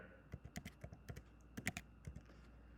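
Quick, light taps on a computer keyboard, a brisk uneven run of clicks that pauses briefly midway before resuming, quiet and close with no voice over it.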